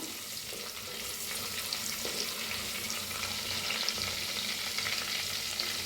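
Spices and coriander leaves roast in a hot pan for a stuffed tomato dish, giving a steady close sizzle with light stirring scrapes throughout and no talking.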